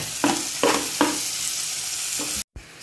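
Onion and chilli sauté in butter in a hot pan for paneer butter masala, a steady close sizzle broken by several scraping stirs, then a brief cut to silence before the frying resumes.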